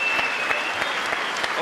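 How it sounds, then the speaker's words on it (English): Full-house crowd at a kickboxing main event breaks into steady applause, a dense wash of clapping that holds at an even, fairly loud level throughout with no voices standing out. "we've got a full house, and a big round of that applause"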